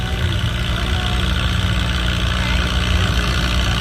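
Antique tractor at a tractor pull in the 2500 to 3000 lb class, its engine running loud and close with a steady low rumble and constant drone, no voices over it.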